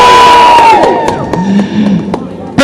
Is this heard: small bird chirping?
no